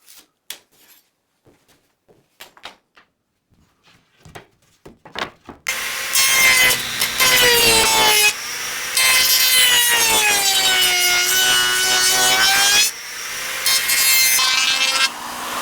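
Pine boards are sawn to length: scattered soft knocks and handling noises come first, then loud, sustained rasping cuts run up close in long stretches with brief pauses between them.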